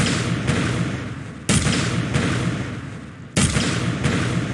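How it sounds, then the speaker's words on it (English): Explosion sound effect from an Unreal Engine 4 target practice game, with two loud booming blasts about two seconds apart, each one sharp at the start and then fading under a steady noisy rumble. "Second explosion."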